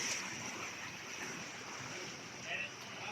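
Floodwater after two days of heavy rain rushes and washes steadily like sea surf, a continuous broadband roar with wind buffeting the microphone, a slight swell near the end.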